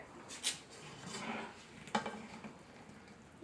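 Spoon clinking and scraping in a pot while cheese melts into potatoes with ham, a few sharp taps over soft stirring, close and quiet with no voices.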